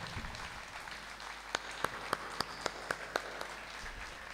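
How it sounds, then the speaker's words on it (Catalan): An audience at an assembly anniversary event claps in a steady wash of applause, with a few sharp individual claps standing out near the middle, moderately loud and continuous. "jo us volia demanar un aplaudiment per l'avi del biberó"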